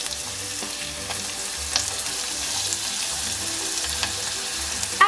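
Chilies and tomatoes hiss and sizzle steadily in a hot frying pan for an okra curry, with a few soft stirring scrapes and light clinks over the constant crackle and no talking.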